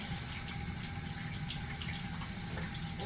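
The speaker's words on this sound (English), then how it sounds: "Turn the water back on." Cold tap water runs steadily into a sink during handwashing, a constant close rushing splash with no break and no voices.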